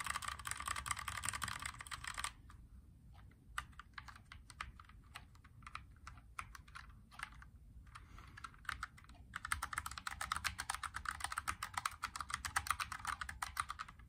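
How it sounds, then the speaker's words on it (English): Fingers type on a USB keyboard connected to an ESP32 board, a close run of crisp key clicks in quick bursts with short pauses, over a faint steady background hiss. "Now let me type something."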